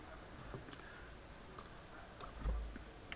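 A few quiet, isolated clicks of a computer mouse while selecting a URL field in a WordPress event ticket plugin's settings, sparse and sharp over a low room hum, with no one talking.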